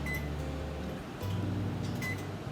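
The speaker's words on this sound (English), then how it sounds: "We're going to put it in the microwave for 30 seconds." A kitchen microwave oven being set for 30 seconds gives two short electronic beeps about two seconds apart over a low hum and faint handling noise, fairly quiet and close.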